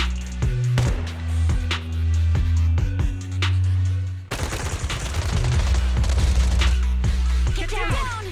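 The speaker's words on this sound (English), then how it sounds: "Gunfire? This pattern. Suppressive marching fire." Suppressive marching gunfire in the game Zenless Zone Zero, rapid bursts of close shots in a steady rhythm, then denser fire over a low drone, with no speech.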